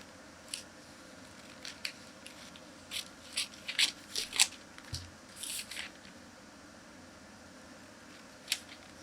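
Scissors snipping through a traced paper sewing pattern for a multiple-dart bodice, heard as a scattered series of short, crisp cuts and crunches with pauses, fairly close and alone.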